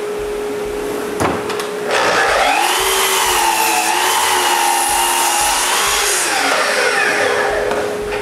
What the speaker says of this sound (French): Ensuite, je fais des trous dans chaque petit bout.